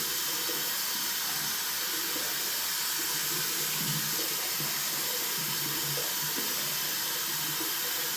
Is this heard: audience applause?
no